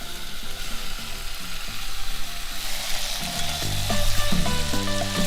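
Tomatoes tipped into a stew pot of reducing wine for a seafood stew, a loud continuous sizzle and bubbling with clattering stirring and scraping knocks, close and without talk.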